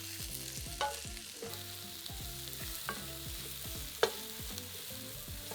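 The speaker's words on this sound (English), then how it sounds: "We're going to cook those mushrooms for about 4 to 5 minutes, stirring often until they're nice and golden." Sliced chestnut mushrooms frying in butter in a pan, a continuous close sizzle broken by repeated scraping stirs and a few sharper knocks of the utensil against the pan, with no voices.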